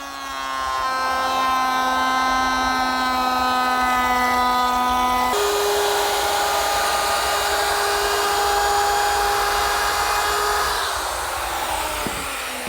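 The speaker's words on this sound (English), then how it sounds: "I can do that at the router table." Router table milling a small rabbet along a 3/4-inch-thick, 7/8-inch-wide wooden piece for a breakfront cabinet cornice, a loud steady high-pitched whine that shifts pitch as the wood feeds through and winds down at the end.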